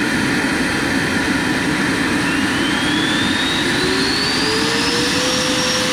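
Turbine engine of an MD 600N RC helicopter running, a loud, steady jet roar with a whine that rises slowly in pitch, close and continuous, without talk.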